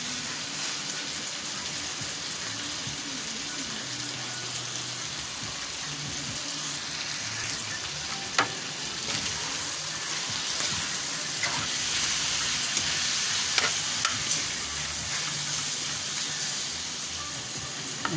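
Chicken curry with curry powder sizzling and frying in a pan, a steady close hiss with occasional clinks of stirring throughout.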